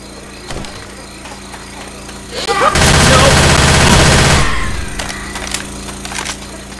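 A sustained burst of machine gun fire in Left 4 Dead 2 roars loud and close for about two seconds, framed by scattered quieter game noises before and after.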